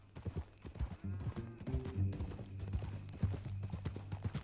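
Horse hooves clip-clopping in the Red Dead Redemption 2 video game, a steady walking rhythm close by, layered over a low musical drone and a brief snort.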